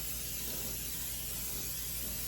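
A steady, continuous aerosol cooking-oil spray hisses onto a pan up close for a couple of seconds without a break.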